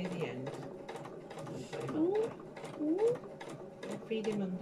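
A domestic sewing machine stitches fabric in a quick, steady mechanical rattle of needle strokes, fairly close, while an adult and someone talk over it.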